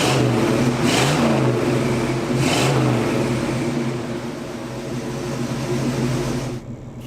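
An old GMC truck engine revs loudly and roars as the truck pulls away, with the engine pitch rising and falling twice before the sound drops off abruptly at the end.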